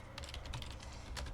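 Fingers type a prompt on a computer keyboard, a quick, close run of light key clicks with uneven rhythm over a low background hum, without speech.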